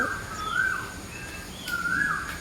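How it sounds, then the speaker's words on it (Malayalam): Birds in a home garden compound in Angamaly, Kerala, sing two faint, whistled, rising-and-falling phrases over a soft outdoor background, with no talking. "കിളികളും കിളികളുടെ ശബ്ദങ്ങളും നമുക്ക് കേട്ടുകൊണ്ട് വീഡിയോ തുടങ്ങാം"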